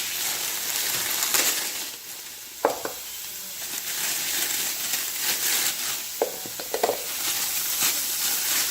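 Steak sizzling and frying in a pan for stuffed bell peppers, a steady broadband hiss with a few brief louder crackles and stirring knocks, close and alone without talk.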